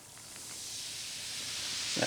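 Dr Pepper Blackberry soda fizzing as it is poured, a steady close hiss of carbonation that builds slightly louder over about two seconds.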